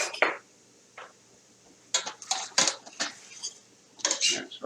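A utensil stirs and scrapes taco filling in a metal pan, making a handful of clustered clinks and scrapes close to the microphone, separated by short pauses.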